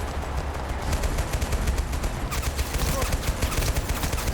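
Gunfire rattles through a Total Conflict: Resistance battle, steady rapid bursts of automatic fire that grow denser and sharper midway, with no talk over it.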